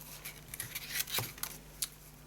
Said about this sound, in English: So let me get my scissors.